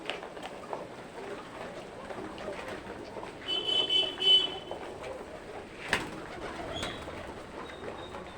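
Soft pigeon cooing murmurs in the background, with a brief sharp chirp and a faint clatter partway through.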